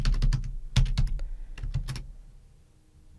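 Fast bursts of typing on a computer keyboard as a Slack message is written, close and crisp key clicks in short runs that trail off into quiet.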